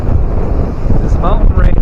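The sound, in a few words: strong wind gusts over a mountain lake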